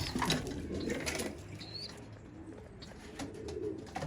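Old-breed purple Istanbul pigeons cooing close by, soft repeated throaty coos with a faint flutter and light rustling in a quiet loft.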